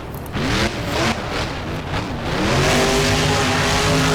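A monster truck engine in the BeamNG driving game roars loudly, revving up in rising surges and then holding a sustained, climbing drone, close and alone without any talk.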